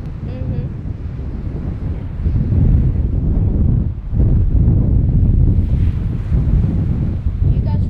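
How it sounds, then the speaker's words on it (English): Strong wind buffets the microphone in loud, rumbling gusts at a seaside reef, with water and surf noise in the background and a voice faintly beneath. "it's quite windy"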